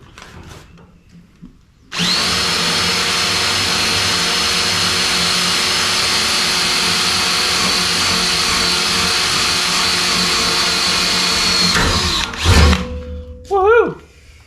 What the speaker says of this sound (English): I need a better drill bit because that one ain't drilling.